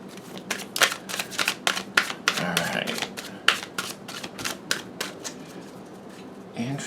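Tarot cards are shuffled by hand close up, giving a run of crisp riffling snaps and papery slaps in uneven bursts over several seconds.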